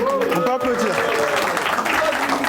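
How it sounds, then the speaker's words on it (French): An audience applauds with a dense, steady patter of clapping, while a voice talks over it. "On peut applaudir."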